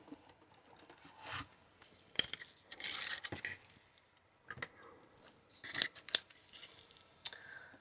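Scissors cut black glitter ribbon in a quiet room, making several separate snips and rustles: a soft cut near the start, a longer crisp slice around the middle, then a cluster of sharp snips toward the end.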